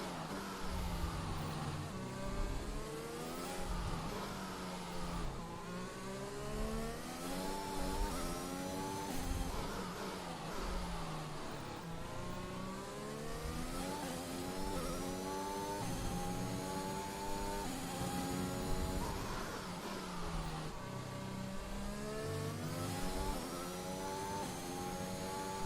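Race car engine in the F1 2021 video game, a high whining note that rises and falls repeatedly with gear changes and braking, moderately quiet and continuous.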